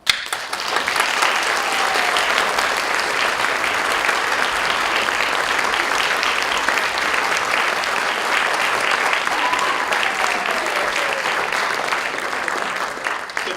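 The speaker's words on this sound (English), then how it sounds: "So I think that she deserves a big clap." Sustained audience applause at a school show's thank-you segment, a thick, loud, even roar of many hands clapping that carries on unbroken for a long stretch.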